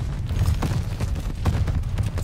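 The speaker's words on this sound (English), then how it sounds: "There's so many explosions on this game" Dense, rumbling explosions and muffled bursts overlap continuously, a chaotic barrage of deep booms with no clear pauses.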